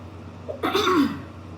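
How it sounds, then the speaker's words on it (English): A single throat clearing, close and fairly loud, lasting about half a second over low background hum. "I had to clear my throat"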